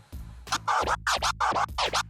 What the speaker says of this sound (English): This is an example of a one-click flare to original flare pattern.